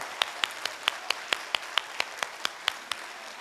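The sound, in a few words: audience applause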